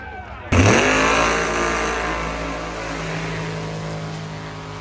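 Drag race cars, including a Mustang, launch with a sudden loud roar that holds as a sustained, heavy engine howl, the pitch sliding as they accelerate away, with crowd noise underneath.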